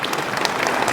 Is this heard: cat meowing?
no